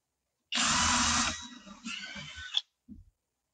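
Power drill driving screws into a wooden holder for PS5 controllers: a loud burst of about a second, a shorter second run with a sharp squeal at its end, then a faint brief thump.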